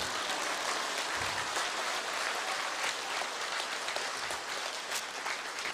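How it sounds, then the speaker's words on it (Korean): An audience at a Korean lecture breaks into sustained applause, a continuous, even rain of many hands clapping at moderate distance with no voices on top, lasting several seconds. "박수 안 쳐요?"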